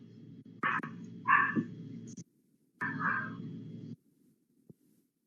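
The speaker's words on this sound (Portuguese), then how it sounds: "o cachorro aqui de casa está latindo" A house dog barks indoors in three bursts, two close together then a third after a pause, moderately loud against a steady low hum of background noise.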